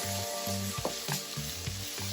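Thai basil beef stir-fries in a wok over a gas range, a steady sizzle and hiss running throughout, broken by a few scraping stirs and soft knocks of the utensil against the pan.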